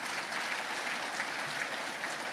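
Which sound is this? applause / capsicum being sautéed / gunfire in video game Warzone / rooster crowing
applause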